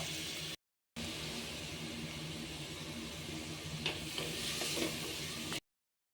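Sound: onions sautéing with salt in a pan

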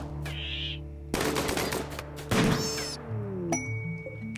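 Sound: sniper rifle shooting at a rat in the video game RimWorld

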